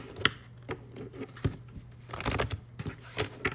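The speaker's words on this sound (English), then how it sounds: "We're gonna shuffle this and see what tomorrow's is gonna be." A deck of tarot cards is shuffled by hand, giving quick papery riffles and soft slaps in irregular bursts, close and fairly quiet, with no talking.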